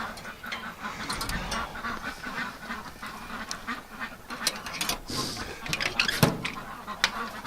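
A flock of ducks quacking and honking close by in a barnyard on a winter morning, a steady overlapping chorus of calls with a few louder honks standing out near the end.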